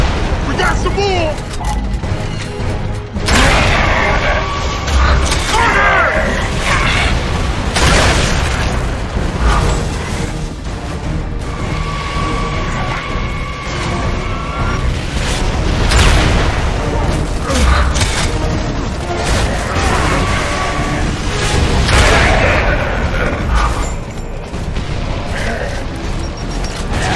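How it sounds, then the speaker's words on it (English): Mortar fire in Gears of War Judgment: heavy booms and explosions roll through a dense, loud battle mix of mechanical clatter and gunfire, with voices shouting over the din. "Mortars have us pinned down!"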